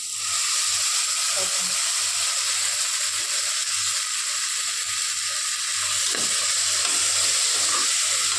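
Ginger paste sautés with tomatoes in a pan, producing an even, hissing sizzle that holds steady throughout, with a faint low hum beneath.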